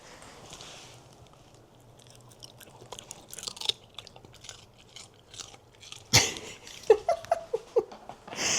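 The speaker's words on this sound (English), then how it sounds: "Some dog crunching ASMR right there." A dog crunches on cucumber, a run of sharp, close chomps and bites near the end after quieter chewing and rustling.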